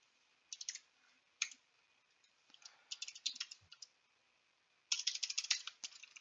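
Computer mouse clicks in several quick bursts, sharp and close with pauses between groups, alone in a quiet room while a maintenance reminder is set up in equipment management software.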